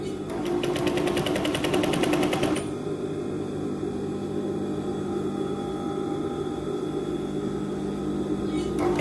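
A sewing machine stitches a square collar, its fast, even needle rattle running loud for a couple of seconds and then stopping, leaving a quiet room hum until a brief restart at the end.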